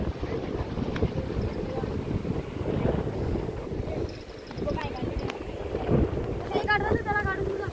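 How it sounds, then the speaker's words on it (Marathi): Sea waves and strong wind batter a fishing boat, with heavy gusting roar buffeting the microphone, water rushing and splashing, and voices speaking over the din. "हे बघा असं लाट आहेत ना, पूर्ण भिजून जात आहे."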